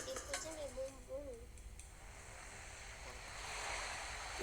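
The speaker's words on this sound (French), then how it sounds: "J'en ai marre de ces vagues-là." Ocean waves wash in a video game as a steady, soft rush of surf that swells slightly toward the end, with a brief tonal sound near the start.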